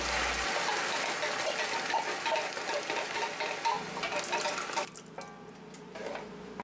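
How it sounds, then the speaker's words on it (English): Four cans of crushed tomatoes pour into a large pot with browned minced garlic, giving a thick, wet gushing and glugging for about five seconds that then slows into softer plops and splatters. "Add in 4 cans of crushed tomatoes."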